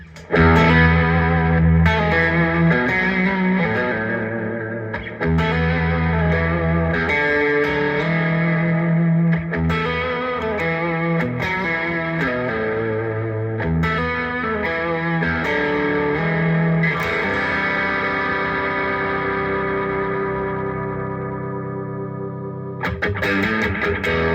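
Distorted electric guitar riffs through a boost pedal and an Electro-Harmonix Deluxe Memory Man delay, with echoing repeats trailing behind the notes off tempo, steady and loud, ending in a long fading ring.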